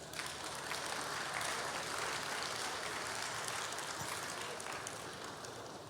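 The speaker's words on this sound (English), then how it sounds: "Now I go clap for our president." An audience at an annual general meeting applauds the president with dense, steady clapping that carries evenly for several seconds.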